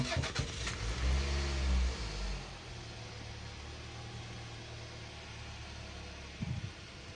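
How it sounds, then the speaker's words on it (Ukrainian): A car running on LPG starts with a short cranking whirr, then settles into a steady, fairly quiet idle with a brief blip of revs near the end. "заводимо автомобіль і відпрацьовуємо газ, який є в системі"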